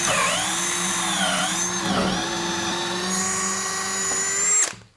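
A Bauer drill runs continuously with a bit boring into a wooden table, its motor whine close and loud, dipping in pitch under load and rising before it cuts off near the end.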